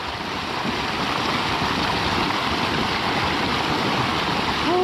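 Water rushes continuously in a loud, steady roar, like a fast-flowing stream close at hand, with no one speaking.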